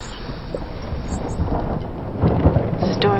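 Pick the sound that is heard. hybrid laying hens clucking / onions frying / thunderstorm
thunderstorm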